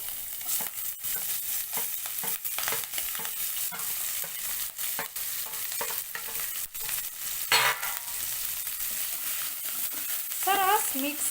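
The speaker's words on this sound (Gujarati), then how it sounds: "તેની અંદર ઉમેરીશું એક ડાળખી લીમડાના પાન અને જે આપણે મરચાં અને આદુની કટકી કરી હતી તે ઉમેરી દેશું" Curry leaves, green chili and ginger pieces hit hot oil in a pan, giving a steady sizzle with stirring and utensil scrapes throughout and a brief louder spatter burst near the end.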